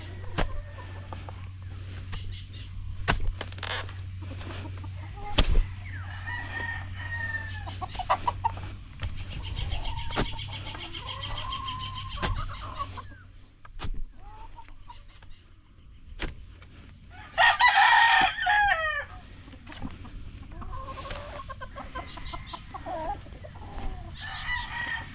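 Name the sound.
chicken crowing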